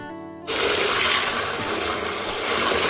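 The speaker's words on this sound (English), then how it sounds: "So here I am adding water 1 liter to the pulses water that I collected." A liter of water pours steadily into a container of collected kitchen water from soaking pulses, a loud, close, continuous rushing splash that starts abruptly after a short quiet moment and keeps going.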